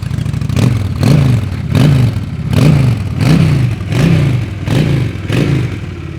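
A Honda Shadow 750 Aero motorcycle with its original, unmodified exhaust blips its engine in a steady series of eight loud throaty revs, about one every 0.7 seconds, recorded up close with no talking.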